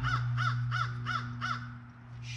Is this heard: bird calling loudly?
yes